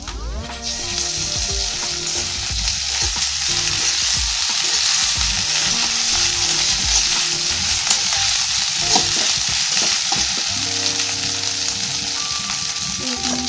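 Ginger garlic paste frying in hot oil produces a loud, continuous, close-up sizzle that holds steady throughout, with a faint low hum underneath and no voices.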